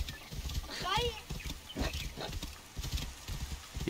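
Horse trotting in Assassin's Creed Origins, a rhythmic run of close hoof clip-clops with a brief whinny early on, mixed under excited talk.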